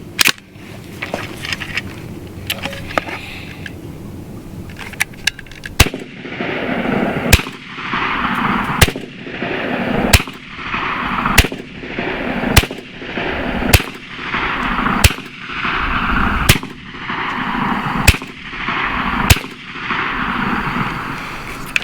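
A BINTAC T9 9mm semi-automatic air pistol fires roughly a dozen sharp, loud shots at a steady pace of about one every second and a half, each followed by a brief mechanical hiss, after some quieter handling noises.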